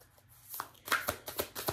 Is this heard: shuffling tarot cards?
yes